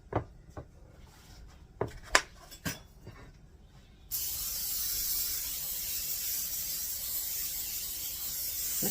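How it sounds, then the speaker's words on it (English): Cooking spray hisses onto a baking pan in one steady, continuous burst after a few sharp clinks and knocks as the pan is set up, close and clear. "the first thing I'm going to do is spray down our pan."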